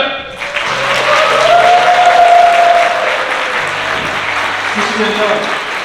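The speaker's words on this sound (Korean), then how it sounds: "따뜻한 박수와 더 큰 환호로 맞이해 주시길 바랍니다" Wedding guests applaud and cheer to welcome the bride's parents as they enter, a loud, dense wash of clapping with whoops and a sustained cheer rising midway, voices mixed into the crowd noise.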